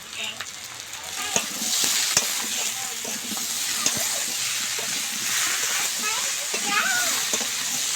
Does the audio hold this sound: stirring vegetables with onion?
yes